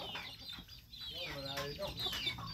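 A farmyard chicken in the provinces clucks in short bursts, with a brief flutter of wings as it takes off from a tree, close by over an outdoor background of rustling and distant ambient noise.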